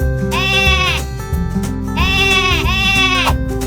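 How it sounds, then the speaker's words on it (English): A cartoon sheep, a lamb, gives two loud, drawn-out bleats, each a wavering baa of about a second, over a steady bed of bright background music. "Can you baa like Sammy?"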